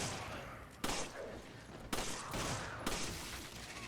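Gunfire in the video game Resident Evil 5: three sharp, loud shots roughly a second apart, each standing out against steady background game noise.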